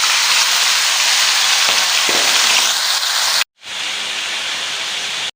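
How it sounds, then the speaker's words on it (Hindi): Chicken pieces going into a cup of hot oil for a Pakistani chicken curry, setting off a loud steady sizzle and hiss that carries on, stops abruptly for a split second, then resumes just as strong. "और अब हमने 1 कप ऑयल ले लिया और इसमें अब चिकन को डाल लेंगे।"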